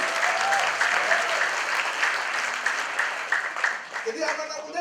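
A church congregation applauds in a dense, lively burst of clapping, loud and close, with voices and shouts mixed in before the clapping thins near the end.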